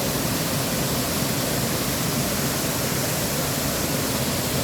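A river rushing steadily in Gorges State Park, a dense broadband wash of flowing water filling the scene at constant loudness, close and continuous with no voices.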